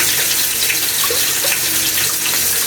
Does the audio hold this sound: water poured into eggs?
yes